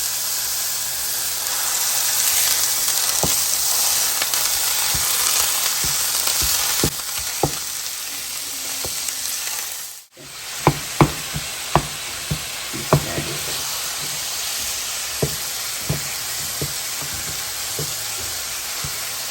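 Three pounds of ground beef fry in a pan with a loud, steady hiss and sizzle, broken midway by a brief lull, then punctuated by a series of sharp spatula knocks and scrapes against the pan.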